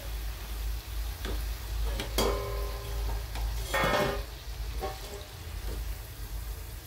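Crisp lattice-style jalidar bhaje fritters lifted out of hot frying oil, a soft continuous sizzle under scattered clinks and scraping of a slotted spoon against the pan.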